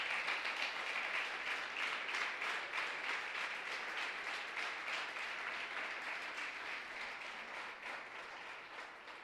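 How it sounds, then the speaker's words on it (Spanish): Sustained applause from a church congregation at a worship service, dense steady clapping filling the whole stretch and easing slightly toward the end, with no voice on top. "Un aplauso grande al Señor."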